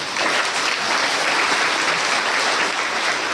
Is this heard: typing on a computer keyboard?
no